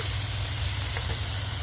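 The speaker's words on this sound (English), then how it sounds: "Now we add a little bit of that teriyaki, just a little, not too much." Teriyaki sauce sizzles on chicken stir-fry cooking on a Blackstone hibachi griddle, a steady, close, bright hiss that holds evenly for a brief moment with no talking.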